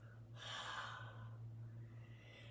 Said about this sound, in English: we are going to breathe through our mouth with a gentle lion's breath